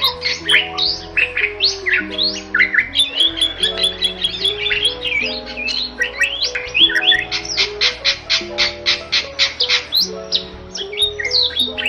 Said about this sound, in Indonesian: Kicauan burung jalak Bali memiliki suara yang khas berupa campuran siul yang memiliki jeda nada beberapa saat dan suara lengkingan.